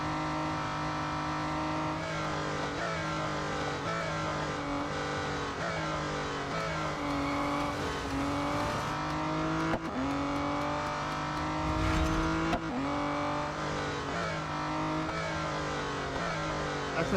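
Race car engines in the Real Racing 3 video game drone and rev continuously, loud and close. Pitch swells with gear changes and acceleration, and a brief tire squeal cuts through; no one speaks.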